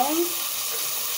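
A steady broadband sizzle rises from a hot pan as bell pepper is added, with a brief trace of a voice at the start.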